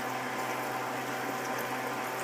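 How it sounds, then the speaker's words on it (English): Cold homemade shrimp stock poured slowly into a roux in a pan, giving a steady, soft liquid rush and bubbling that continues without a break and without talk. "I'm going to add this shrimp stock slowly in here just like that"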